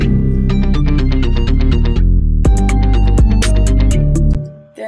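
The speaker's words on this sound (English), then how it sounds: "make sure you're not crushing the dynamics, because if you are, it's going to sound like this." Dense, loud music with a thumping beat and bright synth stabs, over-compressed with crushed dynamics so the level barely moves and the drums lack definition, until it cuts off at the end.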